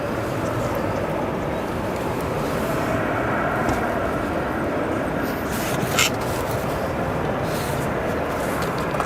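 A Delta Connection airliner arriving at Chicago O'Hare, a steady broadband jet roar holding at constant loudness throughout, with a brief faint click partway through and no talking.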